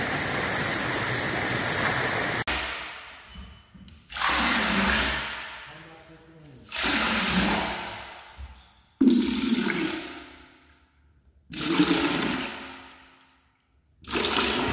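Water from a Bunyip PA13 pump output gushes into a tank. A steady rush comes first, then loud surging bursts separated by short quieter gaps, heard up close.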